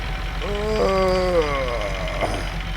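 A tractor engine in Farming Simulator 19 rumbles steadily at close range, its low drone swelling with a rising, then falling tonal whine as the revs change, with a faint voice underneath.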